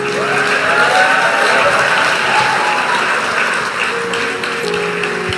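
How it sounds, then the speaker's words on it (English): Sustained applause from a church congregation at an ordination service, a loud, dense, continuous wash of clapping across the whole stretch with faint voices underneath. "Keep clapping, please."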